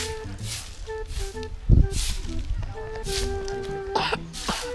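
A single short cough rises out of a noisy background, with faint murmuring and clattering around it.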